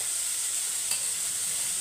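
Onions and tomatoes sauté in a pan, a steady loud sizzling hiss that runs evenly throughout with no talking.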